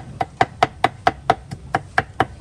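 A knife chops ingredients for a spring roll dipping sauce on a board, about a dozen sharp, evenly spaced strokes in a steady rhythm, close and clear with no talking.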